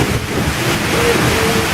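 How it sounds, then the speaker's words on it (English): Standing behind an Icelandic waterfall, a loud, steady broadband roar of falling water fills the air with constant rushing noise and wind buffeting the microphone. "We are behind the volcano waterfall!"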